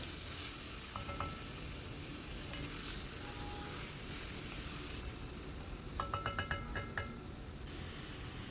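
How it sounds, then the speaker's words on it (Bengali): Chicken stirred and fried with spice masala in a pan, a constant close sizzle with light clinks and scraping of a spoon against metal, no voices. "কষিয়ে নেব মশলাটা যাতে চিকেনগুলোর গায়ে ভালো করে মিশে যায় ততক্ষণ পর্যন্ত একটু নেড়ে নেবো"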